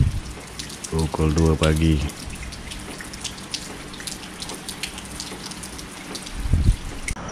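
Heavy rain pours steadily at night, a constant hiss under a brief spoken phrase near the start, with a soft thump toward the end.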